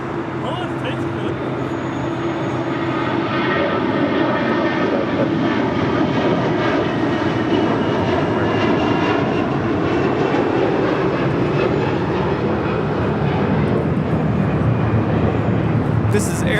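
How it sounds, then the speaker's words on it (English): An Air Canada Airbus A321 jet roars steadily on departure for Toronto from LAX, a sustained loud engine rumble with whining tones, heard alongside a person talking. "This is Air Canada 790 departing to Toronto on an A321"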